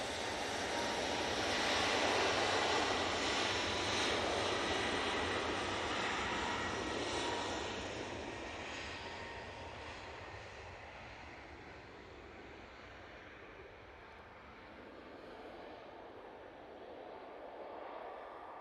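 Ryanair jet airliner taking off at Manchester Airport, a broad, loud roar heard from a distance that swells early and then slowly fades and thins as the aircraft climbs away, with no voices.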